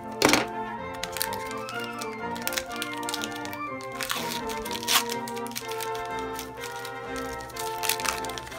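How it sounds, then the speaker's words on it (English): Scissors cut open a Pokémon XY Evolutions booster pack with a series of sharp close snips, crackles and crinkles, loudest at the start and recurring irregularly over soft background noise. "Thankfully, I have my handy dandy scissors here to assist me."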